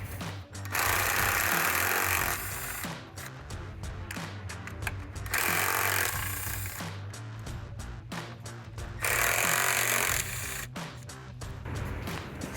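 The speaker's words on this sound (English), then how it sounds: "now I have the 5/16 socket with the extension with my impact drill. I got it set to removing these" An impact drill with a 5/16 socket and extension rattles loudly in several hammering bursts, removing bolts on a 2011-2016 Mustang V6 during an ignition coil swap, stopping and starting between them, up close with no voices.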